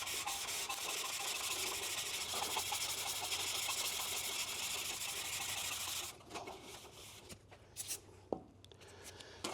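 An aluminum grill from a Chevrolet C10 pickup is sanded by hand with abrasive paper, giving a continuous, close, raspy rubbing for about six seconds before it stops, followed by a few light handling taps.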